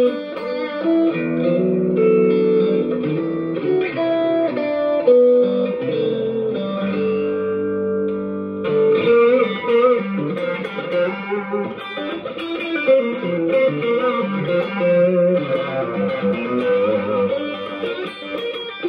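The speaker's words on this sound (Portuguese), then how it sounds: "Esse foi o som do Tube Screamer." Electric guitar through the Tube Screamer overdrive on a Zoom G1on multi-effects pedal, a gritty, warm driven tone playing a continuous melodic phrase for nearly twenty seconds, loud and close with a touch of reverb and no talking.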